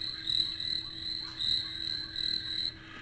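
Looping forest soundscape of pulsing frog croaks and insect trills, steady and soft, played back through the small speaker of a La Crosse Equity mood light alarm clock.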